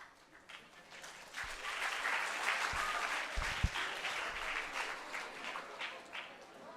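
Audience at a school students' military history and awareness quiz in Chennai applauds and cheers for the six finalist teams, a steady wash of clapping and voices filling the hall, moderately loud with a few sharper claps.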